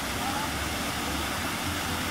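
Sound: spa pool waterfall

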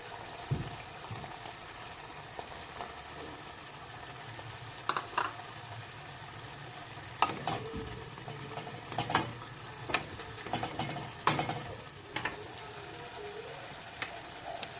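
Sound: spinach being sautéed in a pan

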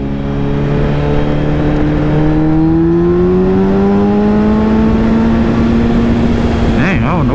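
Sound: car accelerating

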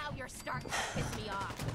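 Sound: gunfire from a gun in the video game Fallout 4

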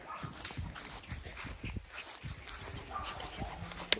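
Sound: dogs barking

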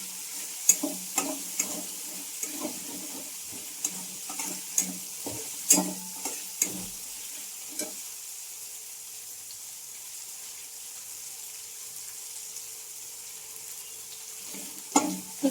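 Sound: stuffed brinjal frying and being stirred in a pan

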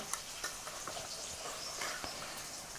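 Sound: stirring sago pearls (sabudana) in a pan

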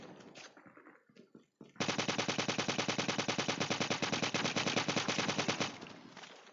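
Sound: machine gun fire in Call of Duty video game

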